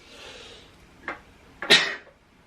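A single sneeze sounds close to the mic, with a brief sharp intake followed by a loud hissing burst, then quiet.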